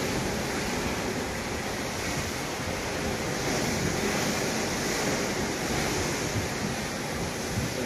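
Sea waves seen from a cruise ship in the Gulf near Dubai and Qatar, a dense steady wash of surf mixed with wind rushing across the microphone, continuous and loud with no talking.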